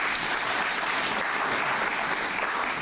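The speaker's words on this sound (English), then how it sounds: "Another round of applause." Sustained applause from a large audience at a formal Botswana ceremony honouring a former COSAFA secretary general, a dense, steady clapping that fills the room for about three seconds without pause.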